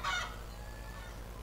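A startled chicken in the Star Stable game gives one short, sharp squawk at the very start. Only a quiet, steady background remains after it.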